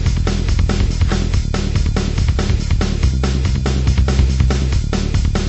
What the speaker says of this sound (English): So what happens is we've got 4 chains of this metal drum pattern, each one going 2 bars with the bass note changing.